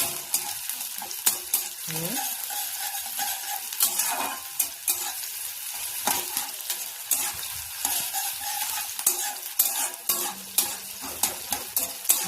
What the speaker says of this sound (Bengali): পেঁয়াজ আর কাঁচা লঙ্কা, ভালোভাবে নাড়াচাড়া করবো।